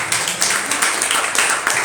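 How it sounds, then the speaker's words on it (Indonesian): Audience applause at an Indonesian organisational conference, a dense wash of many hands clapping with steady volume throughout, swelling in small surges, no speech over it. "Tepuk tangan dong."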